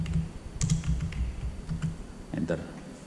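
Keys clatter as a terminal command is typed on a computer keyboard, a quick run of close clicks and taps with a voice talking over them.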